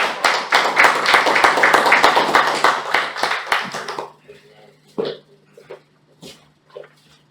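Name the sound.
audience applause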